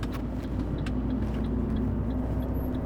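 Steady engine rumble of a car driving close behind on the road, a continuous low drone heard from inside a moving vehicle with no talk.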